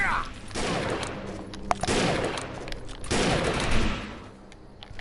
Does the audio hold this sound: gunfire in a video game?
yes